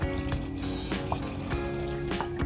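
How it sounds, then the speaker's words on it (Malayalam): Water splashes and gurgles as half a glass is poured into a pressure cooker holding salted vegetables for pav bhaji, a short close pour with small clinks of the vessel. "ഒരു 1/2 ഗ്ലാസ് വെള്ളം ഒഴിച്ചു കൊടുക്കാം"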